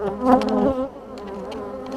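Honey bees buzz close by at a hive in a steady drone, louder at first and then settling into a softer, continuous hum.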